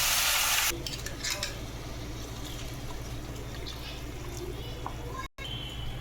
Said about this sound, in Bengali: ফোড়নটা ভাজা হয়ে গেছে, এবার ওই পেস্টটা অ্যাড করে দিচ্ছি।